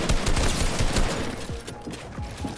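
Rapid gunfire in a Fortnite-style 1v2 build fight, a dense run of shots and bursts with shotgun-like blasts, loud and continuous throughout with no voices.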